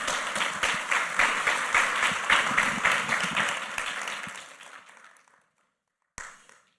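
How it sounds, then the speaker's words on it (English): An awards-event audience applauds anti-trafficking heroes, dense clapping with audible individual claps that holds steady, then fades out into silence before a brief final burst of claps. "shall we applaud these heroes against human trafficking one more time?"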